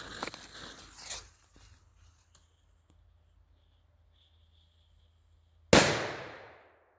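A few faint clicks and rustles, then near silence, broken by a single sharp, loud bang from a large paper SIGMA BULLDOG XP1074 TRIPLEX firecracker that fades with a brief echo.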